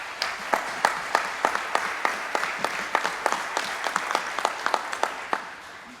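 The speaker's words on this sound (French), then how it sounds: "si on peut les applaudir à nouveau parce qu'ils ont fait un boulot formidable" Audience applause at an equine farriery meeting with vets and farriers, a steady wash of many hands with sharper individual claps standing out, moderately loud and unbroken across the whole stretch.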